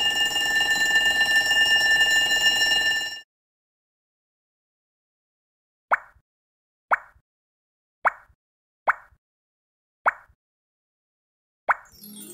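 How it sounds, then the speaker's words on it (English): Fire alarm effect from the iPhone puzzle game Shape Builder: a steady, buzzing electronic ring lasting about three seconds, then silence, then six short, hollow plopping pops spaced irregularly. "Fire alarm."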